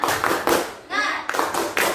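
A class of schoolchildren performs the tepuk semangat clap, loud bursts of hand clapping in a patterned rhythm, broken by a short pause, with children's voices chanting along.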